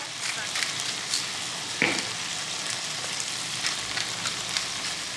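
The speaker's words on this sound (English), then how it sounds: "We're gonna cook this until the tomatoes start wilting." Tomatoes sizzle and fry steadily in a pan for a shrimp and sausage pasta, a constant close crackle with one brief clatter partway through and no talking.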